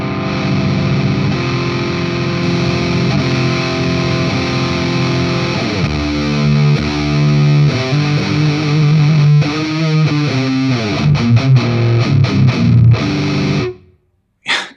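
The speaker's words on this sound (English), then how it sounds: "I think with the Rat I should be able to get a heavy sound even with a clean" Electric guitar played through a Sonicake Rude Mouse distortion pedal into a clean amp, giving a loud, punchy, fuzzy distorted tone with sustained chords followed by quicker riffing, ending in a sudden cutoff.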